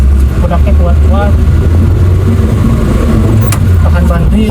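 An old Suzuki Carry pickup engine revs up in first gear, a loud low drone rising under someone speaking in Indonesian.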